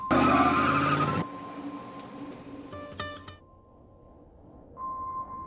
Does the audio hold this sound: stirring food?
no